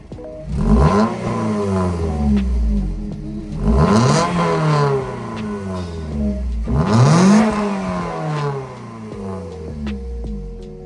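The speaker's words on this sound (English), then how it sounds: "that is what the exhaust sounds like on the TC now." A Scion tC engine with a Spec-D exhaust revs three times in a row, each burst climbing sharply then falling back to a throaty idle, loud and close with no talking.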